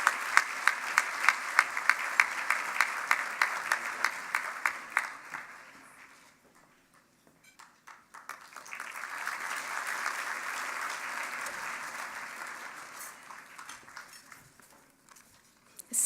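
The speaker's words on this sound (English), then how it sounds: "let's give her a great round of applause for receiving this MPAC award" Applause for an award recipient at an evening awards event, starting with clear, rhythmic clapping, fading, then swelling again as a broad wash of crowd applause before tapering off.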